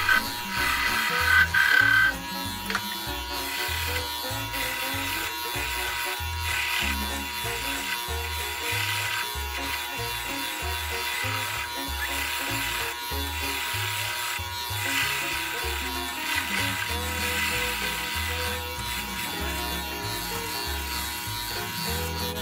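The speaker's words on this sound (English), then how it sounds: "I used the scraper to narrow the end, allowing me to get close to the live center without touching it." Wood lathe turning an acorn ornament as a scraper narrows the end, a continuous whirring hum with rhythmic scraping pulses throughout, close and steady.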